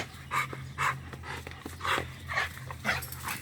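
A dog pants close by in a steady, rhythmic series of quick breaths with faint whimpers, quiet and alone, with no one talking.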